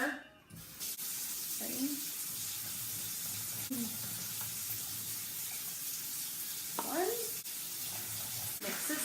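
Hot water poured from a tap into an empty gallon jug while mixing homemade laundry detergent with borax and washing soda, a steady close hiss of running water with a person speaking briefly over it.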